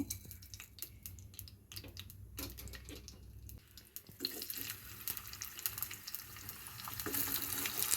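Oil tempering with mustard seeds sizzling in a pan for alasande kalu saaru, a quiet crackle with scattered sharp pops that swells into a louder, steady hiss in the second half.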